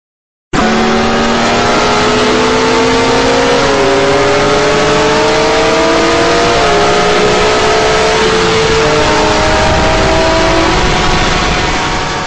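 Racing cars accelerate hard at the start of a race, a loud dense roar of engines rising through the gears with overlapping revs and shifts, close and continuous with no talk.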